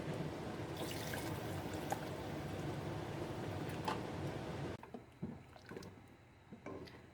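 Water is poured into a pot of simmering red bean curry made with lobia and rajma. A steady, close liquid gurgle and splash runs for several seconds, then drops to softer intermittent bubbling.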